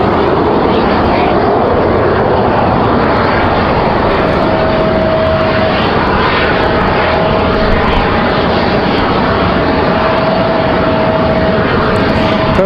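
A Contour Airlines CRJ 200 regional jet arrives at Raleigh-Durham airport in windy weather, producing a steady, loud engine roar with a thin tonal whine appearing midway and persisting, no voices over it.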